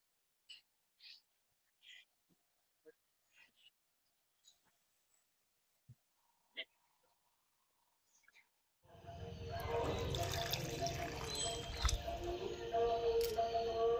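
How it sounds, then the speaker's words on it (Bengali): Milk poured into lightly fried semolina in a hot pan sets off a sudden, loud, continuous sizzle and bubbling. Only a few faint kitchen clicks and taps come before it. "এবার এর মধ্যে দিয়ে দেবো এরকম ছোট বাটি 2 বাটি দুধ।"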